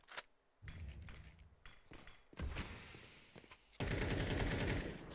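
Counter-Strike gunfire plays as bursts of sharp shots, first scattered single cracks and then a longer loud rapid volley near the end, with no talk over it.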